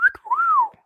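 A person whistles in imitation of a cougar call, a single short rising-and-falling tone lasting under a second, close and clear with faint breath noises around it.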